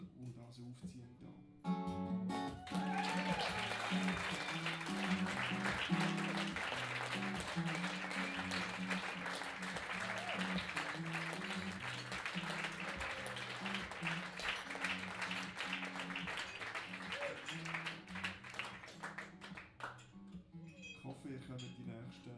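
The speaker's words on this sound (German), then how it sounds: "Zuerst mal wollte ich wirklich, wirklich einen heftigen Applaus für den Pesche und den Opu und das aufziehen da" A live audience claps for the performers in a sustained burst of applause lasting about twenty seconds, dense and steady, with voices and some tonal sound underneath.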